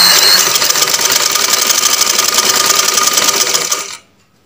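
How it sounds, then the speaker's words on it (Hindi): A sewing machine hums loud and close in one continuous run while stitching a shirt neck band closed, then cuts off abruptly into silence. "अब हम इसको सिलाई से बंद कर देंगे।"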